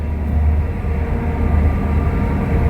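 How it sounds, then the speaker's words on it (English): A train passes at a distance, producing a loud, steady low rumble with a constant mechanical drone that holds for the whole stretch, with no talking. "That is a train going by."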